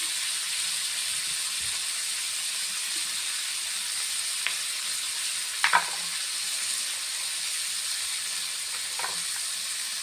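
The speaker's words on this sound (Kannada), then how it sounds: "ಸ್ವಲ್ಪ ಫ್ರೈ ಆಗಲಿ" Red chutney ingredients fry in a pan with a steady, close high sizzle throughout, broken by a few faint scraping stirs of a spoon; no one speaks.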